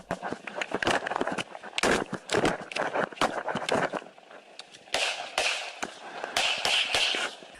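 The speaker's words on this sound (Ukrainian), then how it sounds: "Лунають удари та постріли." Blows and gunshots: sharp bangs and impacts crack out in rapid irregular bursts, loud and close, with a brief lull before another cluster of sharp hits.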